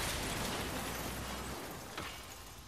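A pepper grenade goes off in the Watch Dogs Legion video game, a hissing, rushing burst that fades over a couple of seconds with a small pop near the end.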